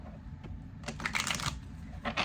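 Tarot cards being shuffled close by, a quick run of soft papery riffling and flicks, with a second short burst near the end.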